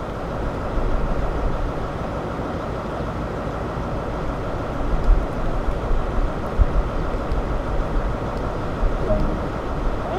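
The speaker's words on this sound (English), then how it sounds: "Now apply some power and get this train moving." A train in a railway simulator game pulls away with the throttle in notch 1, producing a steady, droning low engine rumble with occasional faint clanks, continuous and fairly loud.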